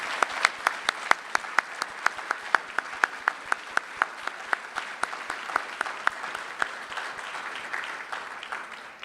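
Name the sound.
audience applause at a luncheon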